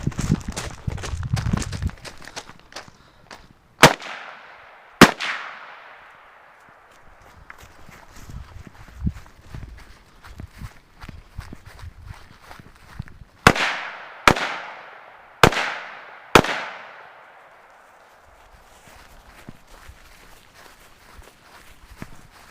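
Several sharp shots from a 300 Blackout pistol, spaced out early on then fired in a quick run of four, each cracking loud and close with a ringing decay outdoors, between quieter shuffling and movement.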